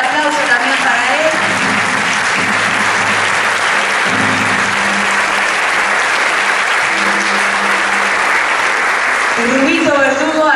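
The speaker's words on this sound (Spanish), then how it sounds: "Fuerte el aplauso también para él." An audience at a gala concert by an instrumental and vocal ensemble claps loudly and steadily throughout, while a speaker's voice comes in briefly at the start and near the end.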